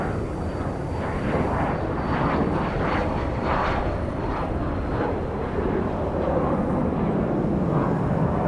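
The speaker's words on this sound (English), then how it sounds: "This is a Cessna Citation CJ4 going to Amarillo, Texas." A Cessna Citation CJ4 business jet departs Dallas Love Field, its engine roar steady and strong throughout with a whooshing, rising character and no speech.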